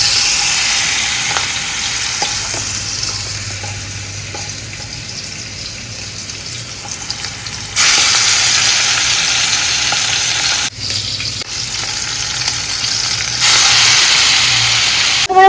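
Goat liver dropped into hot oil gives a continuous loud frying sizzle that swells sharply at several points as more pieces go in, with occasional clinks and no talking.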